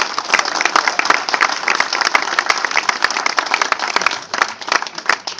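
Crowd applause for campaign volunteers and activists at a Socialist Party campaign office opening in Sommières, a loud, dense burst of many people clapping that holds steady without voices.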